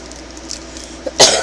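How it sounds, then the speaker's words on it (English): A single person coughs from dust off a pin board, a short burst of rough coughing near the mic at the end of an otherwise quiet stretch. "I'm probably coughing because of the dust on this pin board behind me."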